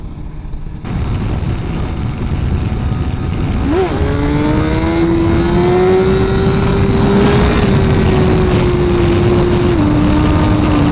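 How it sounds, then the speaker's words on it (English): A 2017 Suzuki GSX-R1000R sport bike revs hard in first gear and lifts into a wheelie up a hill, its engine note climbing steadily and holding loud and close over constant wind and road noise. "A little wheelie right up the hill."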